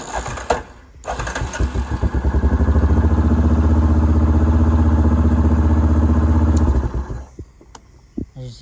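A 4x4 ATV engine cranks with brief clatter, catches and settles into a steady, loud idle for several seconds before cutting off, with light handling noise around it.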